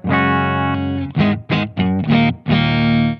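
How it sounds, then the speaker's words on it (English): Electric guitar played clean through a Blackstar AMPED-1 100-watt pedalboard amp with effects and reverb switched off, a sustained chord followed by four short punchy strums, loud and up front, with no voices. "Just straight up the sound of this guitar."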